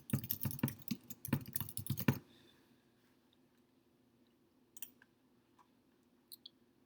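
An email address is typed on a computer keyboard into the AWS Simple Email Service identity form: a quick burst of close, crisp keystrokes lasting about two seconds, then near silence broken by a few light clicks.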